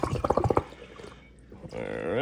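Leftover water dumped into a pump sprayer, a short splashing pour following a burst of talk, then a steadier liquid rush as the container fills.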